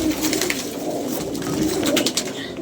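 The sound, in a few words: pigeon cooing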